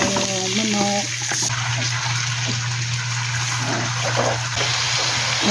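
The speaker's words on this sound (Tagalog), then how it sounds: "Lalagyan ko na ng tubig." Water is poured into a pot of sizzling chicken adobo with garlic and onion, giving a rushing splash over the frying hiss. A brief voice comes at the start.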